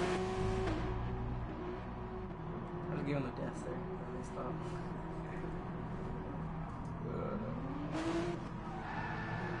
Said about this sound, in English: Doing a freaking burnout, the hell?